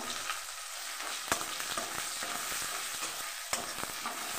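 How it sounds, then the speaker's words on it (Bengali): Onions frying in leftover fish oil in a pan, a steady close sizzle with two sharp clicks of stirring or utensil contact partway through. "তো চলুন ওই তেলে আমি পেঁয়াজগুলোকে ভেজে নিই।"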